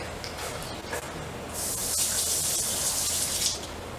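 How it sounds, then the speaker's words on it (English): A fork is rinsed under a running kitchen tap, a close steady hiss of water that grows fuller partway through, with faint clinks against the sink. "I'm gonna rinse this fork."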